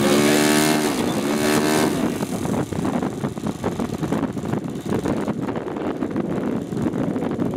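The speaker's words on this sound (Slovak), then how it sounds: "Krásny nízky voľnobeh, som zvedavý, či tam má aj prežalovanie." F4U Corsair fighter aircraft piston engine idling low at an airshow, a loud steady rumbling drone with wind buffeting the microphone throughout.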